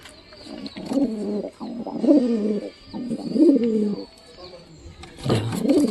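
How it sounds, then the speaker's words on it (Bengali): Pigeons kept at home coo close by in a run of soft, rolling phrases repeated every second or so, with brief pauses between them. "এক কালারের কবুতরগুলো জোড়া দিলে খুব ভালো লাগবে দেখতে"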